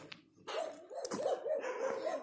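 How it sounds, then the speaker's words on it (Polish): Dogs barking in a video game, several sharp yapping barks in quick irregular succession, fairly close and loud, with no talk over them. "Jakieś pieski na mnie szczekają."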